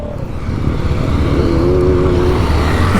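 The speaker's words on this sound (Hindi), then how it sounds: "भाई इधर तो सब बर्नआउट मारने लगे हैं" KTM Duke 250 motorcycles doing burnouts nearby, producing a loud, continuous engine roar with a rising whine as revs build, sustained without pause.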